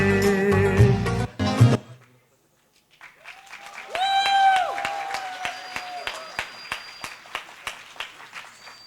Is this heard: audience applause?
yes